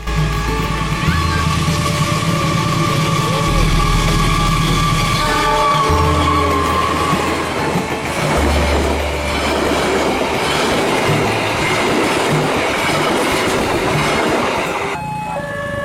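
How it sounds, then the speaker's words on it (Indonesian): Tawang Alun passenger train hauled by a short-hood diesel locomotive running between Bangil and Malang, loud and close, with long horn blasts over a rumbling engine and clattering wheels as it passes. "kereta Tawang Alun sekarang ditarik lokomotif kedua yang berkonfigurasi hidung pendek"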